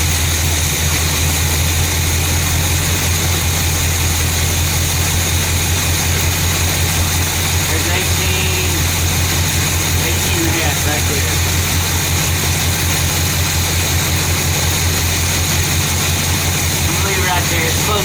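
A car engine fitted with a rebuilt Quadrajet carburetor idles loudly and evenly throughout, a dense, constant low drone with no breaks.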